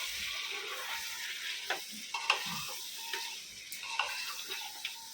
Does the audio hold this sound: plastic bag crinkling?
no